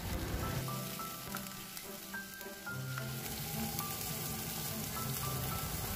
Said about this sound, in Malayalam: എന്നിട്ട് നന്നായിട്ട് വഴറ്റി ചെയ്ത് കൊടുക്കാം.